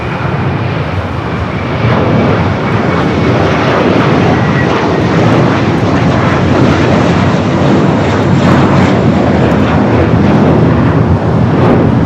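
A Boeing 777 freighter takes off from runway 25 Left at Los Angeles International Airport, its jet engines a loud, steady, broadband roar that holds without letup, with a faint whining tone riding over the rumble.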